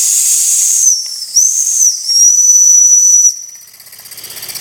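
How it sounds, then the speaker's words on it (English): Steam whistle on a Jensen #5 toy steam engine, a loud, shrill, steady whistle over hissing steam, briefly dipping twice before cutting off, then only soft hissing remains. "there's the steam whistle."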